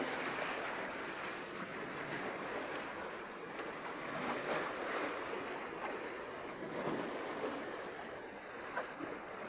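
Sea waves crash against the shore in a continuous rushing roar with swelling surges and wind noise, heard close and alone without voices.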